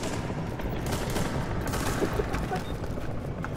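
Dense, continuous gunfire from the PS4 game The Division, with overlapping shots and bursts rattling steadily at moderate volume without letup.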